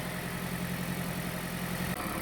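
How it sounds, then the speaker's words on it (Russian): A Toyota Voxy engine idles steadily while warming up, a close, even low rumble with a constant hum and no speech over it. "двигатель у нас работает"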